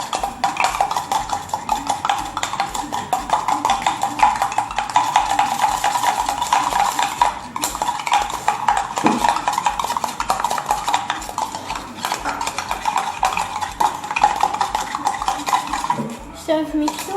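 Slime ingredients being mixed in a container, a continuous busy scraping and clattering of a utensil stirring against the sides, loud and close for the whole stretch.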